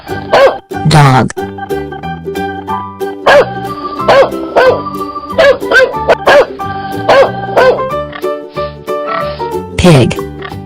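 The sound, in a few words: cartoon dog barking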